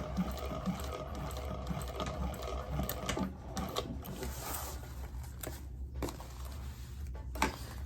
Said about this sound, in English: All the way to the other side and stop and start where my stitching was.